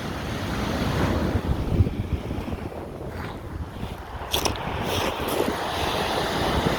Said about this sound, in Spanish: El mar marcaban olas de 1 metro.